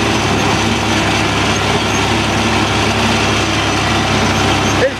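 A John Deere 20 series tractor with an 8-speed transmission idles nearby while set up for raking hay, giving a continuous low diesel rumble at a steady, even level.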